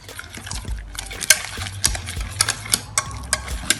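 Egg being stirred into dough in a bowl, a series of sharp wet scraping and tapping strokes from the utensil in an irregular rhythm, close and fairly loud.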